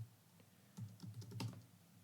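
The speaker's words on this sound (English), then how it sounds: "We can start typing printf" Typing on a computer keyboard while entering C code in an editor, with a brisk run of close, crisp key clicks that starts partway through and continues in an uneven rhythm.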